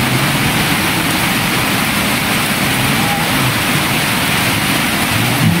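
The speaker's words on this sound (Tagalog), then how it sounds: "Biglang umulan ng malakas mga lods ha." Heavy rain pours down in a loud, dense, unbroken hiss that covers everything for several seconds.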